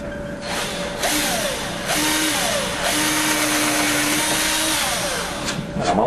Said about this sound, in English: I'm only drilling down a little less than half of this panel here just to keep it from splitting